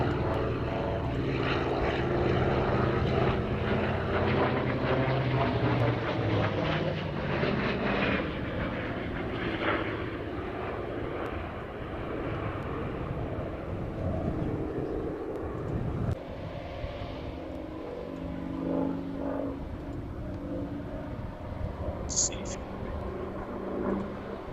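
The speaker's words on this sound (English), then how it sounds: "So what's this aircraft, Morris?" An early prototype propeller aircraft runs in flight with a continuous loud droning, throbbing engine note that holds steady for over twenty seconds, while voices talk quietly underneath.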